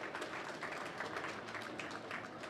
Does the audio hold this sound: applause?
yes